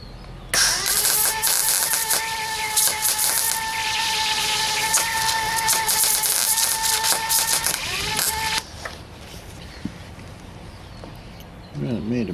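A cheap Home Depot MIG140 GS multi-process welder running a short MIG weld pass at low wire speed, giving a steady, loud crackling buzz for about eight seconds before cutting off.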